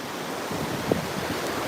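Sea surf rolls steadily where a river meets the ocean in Real, Quezon, with people swimming nearby. The wash of waves and wind noise stays broad and constant, with no speech.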